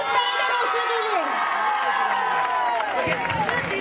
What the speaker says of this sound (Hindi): एक बार फिर से जोरदार तालियां हो जाए प्रॉस्पेरिटी रोस्टर के लिए।